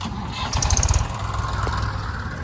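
A tractor engine runs in a field with a low, loud, throbbing drone that swells briefly before settling into a steady chug.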